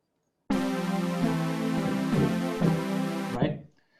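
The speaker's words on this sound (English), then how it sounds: "a vocoder has a carrier signal, which is this signal right here" A vocoder carrier signal plays on its own: a buzzy, harmonically rich synth tone that changes pitch a few times over about three seconds, then cuts off abruptly.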